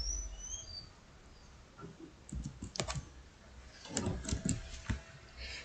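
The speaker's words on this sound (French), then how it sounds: "Je tape sur envoyer." Faint clicking taps on a computer keyboard come in short uneven bursts, with a few birds chirping softly in the background.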